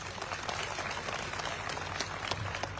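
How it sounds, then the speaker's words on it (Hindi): Applause from a live audience at a political speech event in Uttar Pradesh, a steady wash of clapping that carries evenly across the short span at a moderate, somewhat distant level. "ताली बजा दो उसको,"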